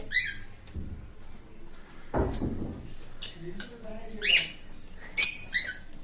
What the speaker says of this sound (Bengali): এই যে লাভবার্ডও আছে, লাভবার্ড ওই যে পর্দার উপরে